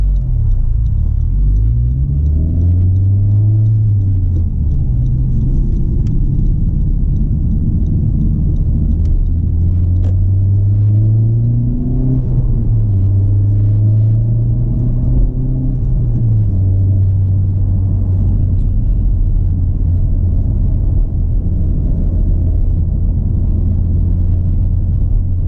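A turbocharged 2018 Honda Civic Type R engine drones loudly and continuously, revving up through several gears in rising sweeps with shifts between them, heard from inside the cabin.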